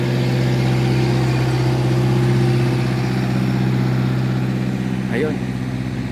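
Trucks pull out of a large parking area in Sweden, a steady idling and low engine hum with a faint rev near the end, and a voice may be speaking over it.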